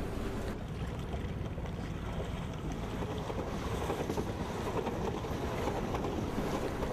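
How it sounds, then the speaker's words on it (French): Small traditional sailboats called punts race on Lough Foyle in Ireland, with steady wind roaring across the microphone and waves washing against hulls, a continuous outdoor rush with no voices. "Le club de voile de Lough Foyle organise des courses de voile à bord de petits voiliers traditionnels appelés des punts."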